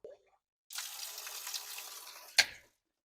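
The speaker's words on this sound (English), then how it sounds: "We ran water, which the water actually works currently." Water gushes steadily from a newly plumbed outdoor water line for a couple of seconds, close and moderately loud, ending with a sharp clunk as the flow stops.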